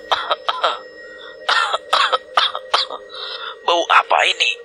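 Dramatized coughing in an Indonesian narrated horror story set in a misty forest, a character coughing up blood: a series of harsh, rough coughs and throat sounds in bursts over a steady tonal hum, fairly close and loud.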